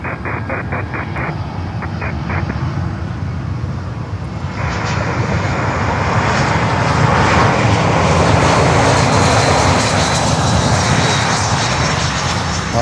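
A Saab aircraft passes at Miami Airport, its engine roar building sharply from a lighter hum into a loud, close, sustained rush that holds through the rest of the pass, with a brief beeping tone early on.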